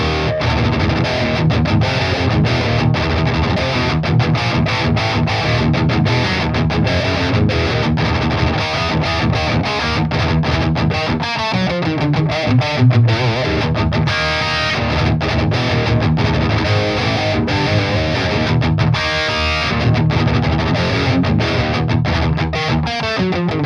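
Crunchy overdriven electric guitar playing chords and riffs continuously through a Mesa Boogie Badlander amp capture on its Crunch channel, a gritty mid-gain tone that stays loud and steady throughout.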